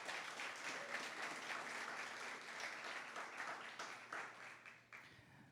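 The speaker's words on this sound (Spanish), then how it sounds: "¿Qué tal si iniciando usted glorifica el nombre del Señor con un aplauso esta mañana?" A church congregation applauding during a Spanish-language service, a sustained wash of many hands clapping at moderate distance, slowly fading toward the end.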